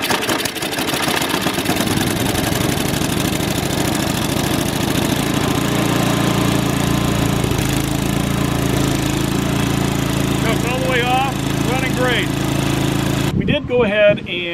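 A small engine with a freshly cleared carburetor port fires up with the choke on and settles into a loud, steady running drone close by, with a brief clatter of handling noise at the end.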